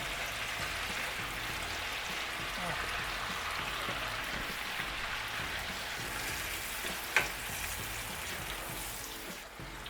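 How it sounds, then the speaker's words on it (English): Alligator meat sizzles in a pan with melted butter and garlic, a steady close crackle like light rain that runs without a break, with one sharp pop near the end. "Then we're going to let our alligator fry up and our pasta cook."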